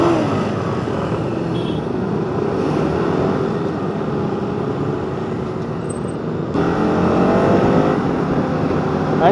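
Motorcycles line up for a group ride of about 110 riders, with a steady, broad rumble of idling and slowly moving engines and a slight rise in loudness near the end.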